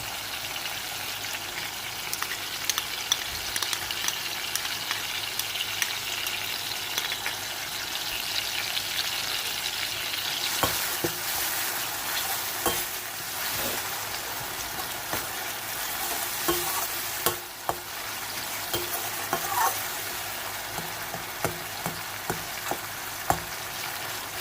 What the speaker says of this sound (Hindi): अब हम इसमें लहसुन डालेंगे।